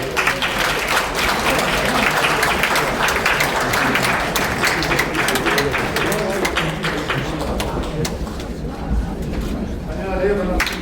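A large audience at a book launch gives sustained, dense applause that carries on continuously, with a voice briefly audible amid the clapping.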